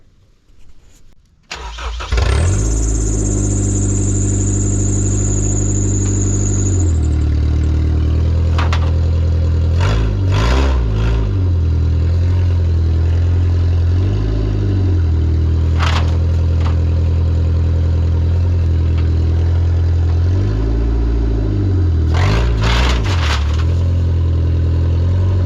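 A Ford Explorer engine cranks and starts, then idles steadily and loud while being revved several times to pull a car out of the woods, each rev swelling and falling back.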